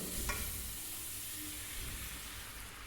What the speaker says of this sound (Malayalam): ഫിഷ് ചേർത്ത് ഒന്ന് ഇളക്കി ഫിഷ് വേവാൻ പാകത്തിന് വളരെ കുറച്ച് വെള്ളം കൂടി ഇതിലേക്ക് ചേർത്ത് കൊടുക്കണം